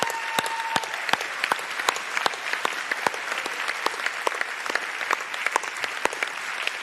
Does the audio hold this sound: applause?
yes